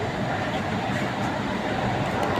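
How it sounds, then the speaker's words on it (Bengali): Kolkata metro train running through the tunnel under the Ganges river just after departure, a steady, loud rumble and hum of the moving carriage heard from inside, continuous and unbroken. "এখন ঠিক 7:30 দরজা বন্ধ হয়ে গেল, মেট্রো স্টার্ট ছেড়ে দিয়েছে।"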